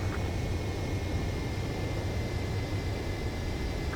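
Steady, loud jet-engine roar of a fighter aircraft on landing approach in the combat flight game Ace Combat 7, a constant broadband rush with no breaks.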